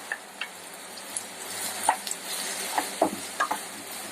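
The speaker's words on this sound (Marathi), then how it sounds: "थोडं परतून घ्यायचं. मटार छोटी 1 वाटी घेतली मटार." Green peas sautéing in a pan for pav bhaji, giving a steady soft sizzle broken by a series of light spoon taps and scrapes against the pan.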